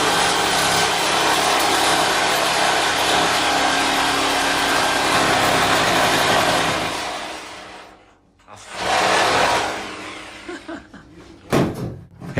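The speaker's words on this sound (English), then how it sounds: "Look, more sawing going on." Steady rasping hand saw strokes cut through wood inside a bus motorhome, loud and close, then stop briefly before a final burst of sawing and a few knocks.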